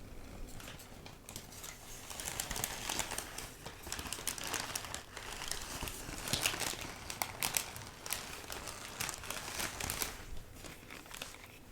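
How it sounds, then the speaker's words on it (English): Crinkly wrapping paper being moved and rustled while unpacking a Body Shop haul, steady close crackling and crumpling that continues throughout at low volume. "So I'll move some of this very crinkly paper."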